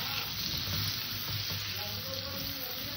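Potato curry seasoned with salt and turmeric fries in a pan, giving off a steady, close sizzle that holds at an even level throughout.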